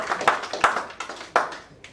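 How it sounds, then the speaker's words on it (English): Scattered hand claps ring out from a small audience at a banking quiz contest's semi-final stage event, several sharp separate claps spread unevenly over a couple of seconds rather than full sustained applause. "special mention and a special round of applause for her"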